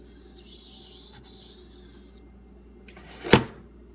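Knife blade ground during sharpening, a steady close rasping grind that stops, then a brief loud scrape near the end.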